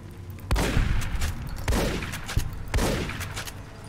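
A powerful gun firing in Fallout: New Vegas: three heavy, booming blasts about a second apart, each followed by a long rolling echo, loud and close, with no talk over them.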